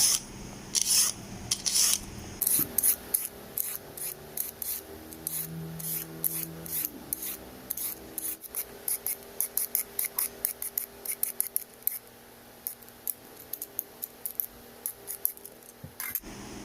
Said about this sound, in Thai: เดี๋ยวเราจะปอกเปลือกมันก่อนนะคะ ค่ะปอกให้หมดทุก หัวเลยนะคะ